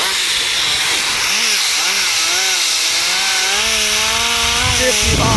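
A cordless handheld air duster blower running on a Dewalt battery gives a loud, steady whine and rushing hiss, its fan pitch sweeping up and down as it revs, close to the microphone.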